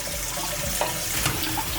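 Tap water running over canned black beans being rinsed in a kitchen, a steady close splashing wash with no talking.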